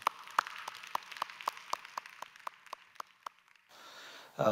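Scattered claps from a church congregation welcoming a pastor's lecture, about a dozen distinct slaps spaced roughly a quarter second apart and moderately near, thinning out before a steady murmur and a louder sound at the end.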